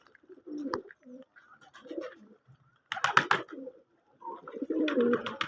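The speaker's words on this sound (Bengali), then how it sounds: "আমাদের দেশি কবুতর খামার সকালে খানা দিচ্ছি দেখেন।" Domestic pigeons coo repeatedly at a pigeon farm during morning feeding, soft low throaty calls in bursts with gaps of quiet and some wing and handling noise between them.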